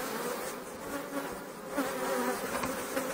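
Honey bees buzz densely around a hive after two nectar flows, a steady close drone of many insects that persists evenly throughout.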